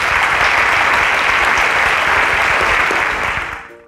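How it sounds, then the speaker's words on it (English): Loud, dense applause from a crowd at a live innovation pitch competition, sustained and full for several seconds before fading out quickly at the end. "A round of applause for Victoria, please."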